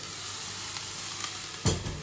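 Food sizzles steadily in a hot pan, a soft constant crackle with a louder burst of spattering near the end.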